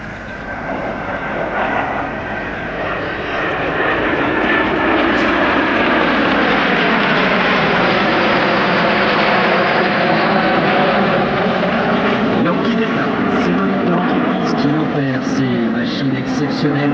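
Fouga Magister jet aircraft flying at an airshow, a loud continuous roar that swells and stays strong, with shifting whine tones as the jet passes, and speech over it throughout.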